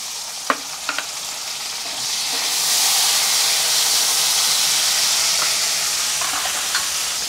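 Green chilies drop into a pan of frying garlic, setting off a loud, steady sizzling hiss after a few clinks of the spoon, with occasional scrapes of stirring over the continuous crackle.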